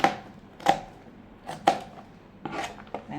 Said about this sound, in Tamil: 2 வெங்காயம் மட்டும் கட் பண்ணிக்கலாம்.